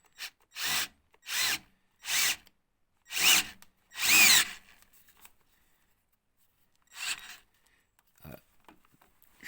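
A power drill drives screws while mounting a Kappa crash bar on a Suzuki V-Strom 650 motorcycle: five short whirring bursts in quick succession, a pause, then a few fainter, briefer runs.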